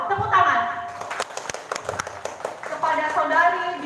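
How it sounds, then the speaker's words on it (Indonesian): A scattered round of clapping from a small audience at a karaoke contest award ceremony, with a voice speaking before and after the claps. "Tepuk tangan"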